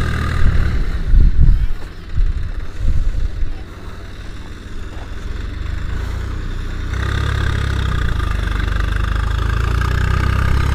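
A Swaraj 744 FE tractor pulls a cultivator deep through a field, its diesel engine rumbling steadily and close, with louder knocks early on before settling into a constant working drone.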